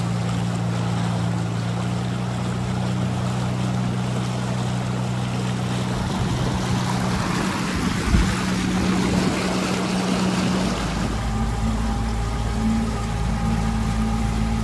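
Motorboat leaving a harbor, a steady low engine drone running throughout with wind and water wash over it, the engine note shifting and deepening partway through.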